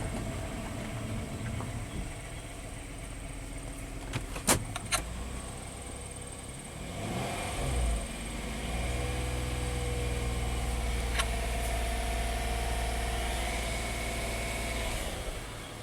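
A Hyundai with a gasoline direct-injection engine idles steadily after injector repair work, a continuous low rumble with a few sharp clicks and jingles midway, heard close with no talking.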